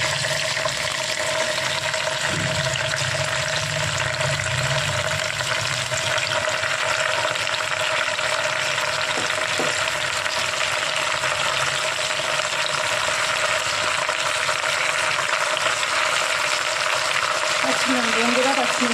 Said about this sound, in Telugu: దాని తర్వాత ఒక ప్యాన్ పెట్టుకొని అందులో ఆయిల్ వేసుకొని హీట్ చేసుకోవాలి